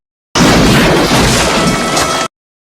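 A loud, explosive burst from a horror-movie head explosion caused by an air hose forced into a mouth, a dense crash lasting about two seconds before cutting off abruptly.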